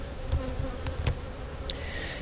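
Honeybees hum in a dense, continuous drone close by while a hive is being split, with a few soft knocks and clicks from handling the frames.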